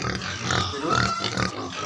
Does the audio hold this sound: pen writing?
no